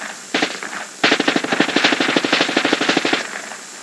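A machine gun fires on a range, a few quick shots, then a brief pause and a long rapid burst of evenly spaced, loud, sharp reports lasting about two seconds, with no talking.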